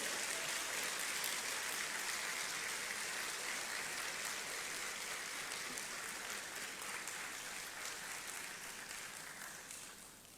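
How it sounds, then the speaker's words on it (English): Audience applause welcoming a circuit court judge at a Ghana citizenship ceremony, a dense, steady wash of clapping from a large crowd that holds for ten seconds and tapers slightly toward the end. "Please welcome her with warm applause."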